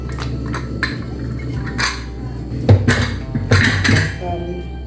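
Cooked rice being scraped out of a pot with a metal spoon, giving a few sharp clinks and scrapes of metal on metal over a steady kitchen background hum.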